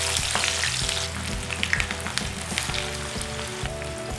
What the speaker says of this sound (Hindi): हाई फ्लेम में प्याज को फ्राई कीजिए।